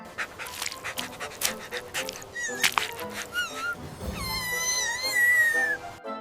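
A small puppy down a hole pants and whimpers in quick breathy bursts and thin high whines, fairly close and moderately loud, with no talk over it.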